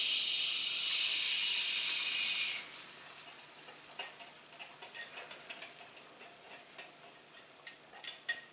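A breakfast bagel sandwich sizzles in a frying pan, a loud steady hiss for a few seconds that drops to a quieter, crackling fry with scattered pops, close up and with no talk.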